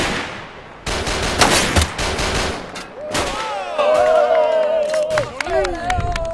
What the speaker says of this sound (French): Des explosions, des coups de feu.